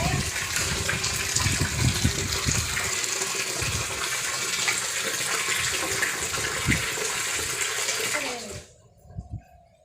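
Water gushes from a tap into a bucket in a steady, loud rush with sloshing bursts, then the flow shuts off abruptly near the end, leaving brief quieter clatter.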